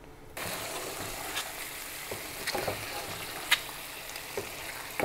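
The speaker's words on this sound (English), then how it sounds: "Let this simmer for another 3 minutes or so." Kerala-style duck egg roast simmering in a pan gives a steady, close sizzle and bubbling hiss, with a few soft clicks and clinks from the pan throughout.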